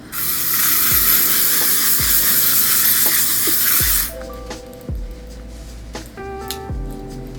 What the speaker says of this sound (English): We're just going to spray our face with this.